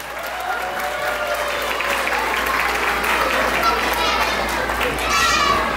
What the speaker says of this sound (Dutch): mag ik dan een daverend applaus voor Peuter 2